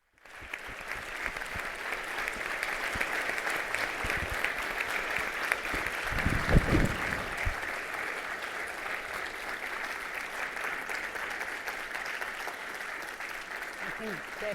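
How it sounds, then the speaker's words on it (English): An audience at a conference session on the new energy economy applauds after a minister's speech, a long steady wash of clapping at moderate level, with a brief low thump midway. "Definitely it needs a much louder applause."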